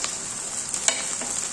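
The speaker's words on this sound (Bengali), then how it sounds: "পেঁয়াজটা ভাজা ভাজা করে নিলাম," Sliced onion frying in a hot pan in a home kitchen, giving a steady bright sizzle with a few soft scrapes as it is stirred, close by and with no talking.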